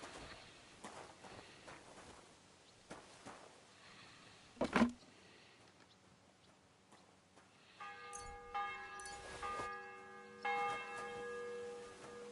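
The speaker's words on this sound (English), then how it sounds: "The bell's ringing for Hans the 5th time." A church bell tolls in the video game Kingdom Come Deliverance 2, with soft footsteps early on before the bell rings out with rich, lingering overtones during the last few seconds, fairly distant.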